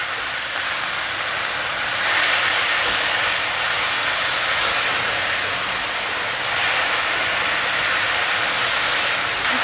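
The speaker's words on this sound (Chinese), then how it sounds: "放入牛蒡丝，快速的翻炒" Shredded burdock stir-fried briskly in a hot wok makes a steady loud hiss and sizzle, swelling and easing slightly as it is tossed, with no talking.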